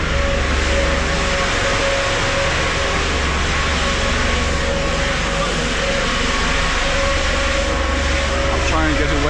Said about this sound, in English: I'll try and get away from the noisy buses.